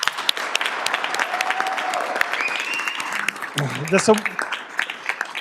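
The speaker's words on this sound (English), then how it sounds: "Please give them a round of applause." Audience applause at a school district governing board meeting honoring a middle school, a steady, dense clapping that fills the room and fades slightly toward the end.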